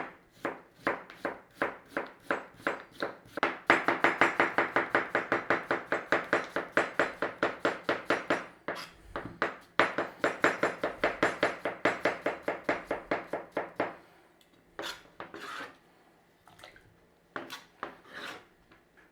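A knife cutting potato into small pieces on a chopping board, rapid regular chops in long close bursts, pausing briefly, then slower scattered cuts near the end.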